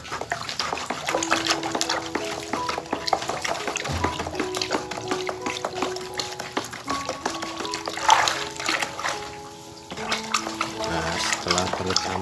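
Sugar is stirred into a container of water to make a fermentation mix for growing media. Liquid swishes and sloshes with repeated clinking against the container, and a person talks throughout.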